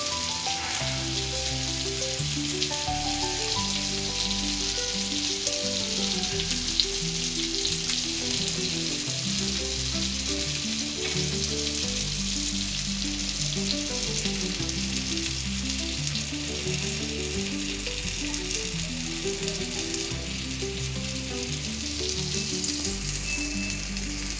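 Malvani-style surmai (kingfish) slices fry in a pan over a lowered flame, giving a steady, continuous sizzling hiss that runs underneath louder melodic background music for the whole stretch.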